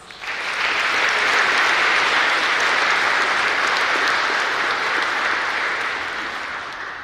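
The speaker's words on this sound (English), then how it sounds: "Please join me in thanking them with a round of applause." Warm, full applause from a large audience at a high school National Honor Society induction ceremony, swelling quickly and holding steady before tapering slightly at the end.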